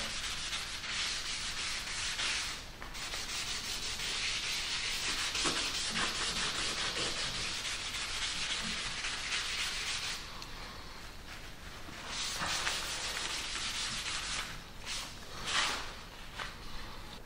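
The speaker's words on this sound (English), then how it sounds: "Then you cover your floorboard with stain." Wood stain is rubbed onto floorboards in long, hissing strokes, a steady close scrubbing that pauses briefly and resumes in shorter passes toward the end, with no speech.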